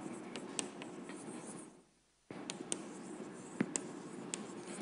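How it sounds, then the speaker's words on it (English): Marker or chalk strokes on a board during a mathematics lecture on mapping class groups, a run of faint scratchy taps and short scrapes in a quiet hall, briefly pausing before resuming, with no talking. "so I should write that down."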